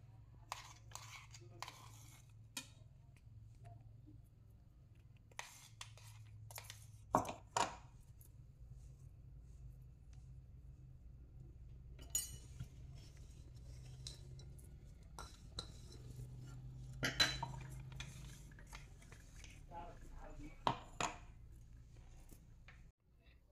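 Chilli and garlic being ground by hand on a traditional stone slab for red chutney, with repeated scraping and knocking strokes of the grinding stone over a low steady hum, close by.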